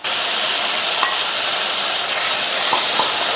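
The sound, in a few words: sautéing chopped tomatoes with ginger garlic paste in a pan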